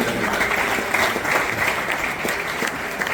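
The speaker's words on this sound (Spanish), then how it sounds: "Denle un aplauso al Señor bien grande" A church congregation applauds in a steady, even wash of many hands clapping at once, moderately loud and sustained with no pauses, faint crowd murmur beneath.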